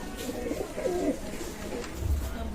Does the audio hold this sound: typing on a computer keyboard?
no